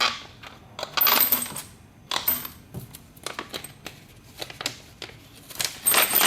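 Springs, a piston, nuts and bolts rattle and clink inside a plastic bottle of paint thinner as it is shaken, in bursts of bright metallic jangling with short pauses between.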